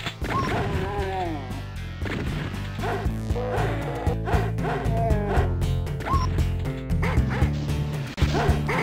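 Dogs in the video game Doom bark in rapid, repeated yaps and woofs over loud game music and crashing combat sounds.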